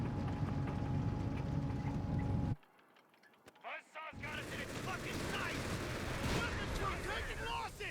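MG42 machine gun fire in the video game Company of Heroes 3 comes as rapid bursts of gunfire mixed with battle noise, with a short near-silent gap in the middle before the shooting resumes.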